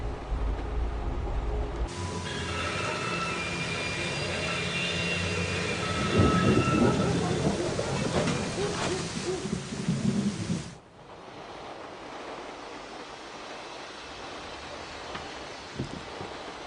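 A thunderstorm with heavy rain rolls through a scene in the video game Syberia: The World Before, a long rumble swelling and cracking over steady downpour, then softer rain continuing after the thunder fades.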